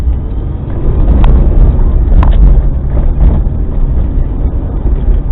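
Loud, constant cabin drone inside a 1992 Suzuki-style Tracker budget SUV with an 80 horsepower engine on side streets, heavy low rumble of road and engine noise with a few faint clicks and knocks.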